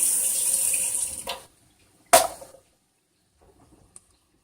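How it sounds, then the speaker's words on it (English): Water poured into a hot pan splashes and sizzles briefly, a short pour that trails off, followed by a sharp burst and a faint tick in near silence. "I like to add a little bit of water to the bottom."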